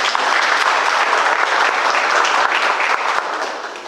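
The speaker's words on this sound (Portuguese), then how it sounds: "Uma salva de palmas." Clapping fills a room at a public hearing on climate change and flooding as attendees welcome the mayor of Glorinha, a dense, even round of applause lasting several seconds before starting to fade.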